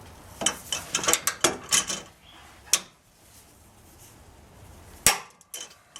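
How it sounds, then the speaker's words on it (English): A socket wrench and ratchet clack and click in short bursts while a rear frame bolt is tightened on a vehicle fitted with a Stage 3 rear frame kit, then a sharp metallic knock and a few trailing clicks. "have someone hold the wrench from the inside and another person on the socket, and just keep tightening it down"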